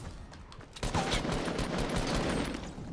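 Rifle gunfire in Fortnite: a rapid burst of loud, close shots with dense repeated cracks, continuing steadily with no talk.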